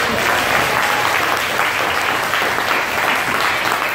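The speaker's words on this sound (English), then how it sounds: "Let's give your parents a big round of applause" A loud, dense round of applause from an audience at an elementary school leadership summit, honoring parents, sustained and even from start to finish.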